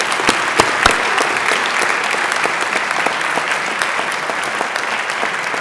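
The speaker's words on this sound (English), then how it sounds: "Please join me in a round of applause for all those nominees." A school board meeting audience gives a round of applause for school-year nominees, a dense, even patter of many hands with a few louder nearby claps, sustained throughout with no voices.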